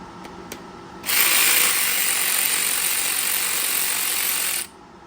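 A ratchet clicks steadily while tightening a part on an LS 5.3 V8 engine in a garage, one continuous close, loud run of rapid pawl clicks lasting a few seconds between short quiet gaps.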